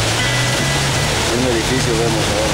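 Heavy rain pours as a vehicle drives into the city of Charlo, making a loud, dense, steady roar of water, with someone speaking over it.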